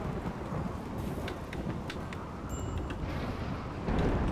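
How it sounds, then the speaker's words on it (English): Thunder and heavy rain from a lightning storm in the video game RimWorld, a steady broad rumble and hiss with a few crackling bursts and a louder swell near the end, with no voices. "I always get struck by lightning."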